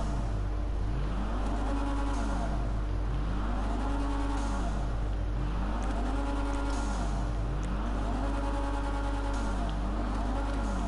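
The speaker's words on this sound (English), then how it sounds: "Ooh, the turbo actually does kick in." A Toyota Supra's turbo engine revs up and falls back in repeated rising-and-dropping sweeps in GTA Online, loud and steady over a constant hum.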